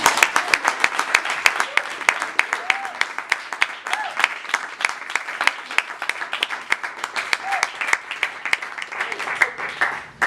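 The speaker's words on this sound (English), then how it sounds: "Give them a big round of applause." Audience at a magic show giving a round of applause, a dense, steady crowd clapping for about ten seconds, moderately loud and easing slightly toward the end.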